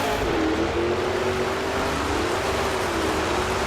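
Monster trucks race side by side at an arena event, engines droning loud and steady with a sustained rising and falling tone throughout, no voices.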